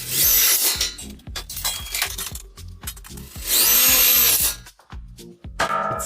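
A power drill whines in repeated bursts as self-drilling screws are driven into metal studs, with grinding and rattling between the longer high-pitched runs.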